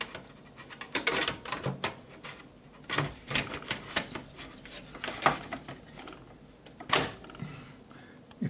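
A Gigabyte 3D Mars PC chassis drive cage clicks and clatters into its locked position, a scattering of quiet, sharp plastic-and-metal snaps spread over several seconds.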